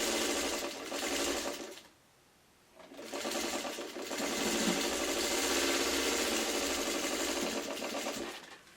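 A sewing machine stitches a nine-patch quilt block with a close, steady mechanical whir and rattle. It pauses briefly, then runs on at a constant speed until it stops at the end.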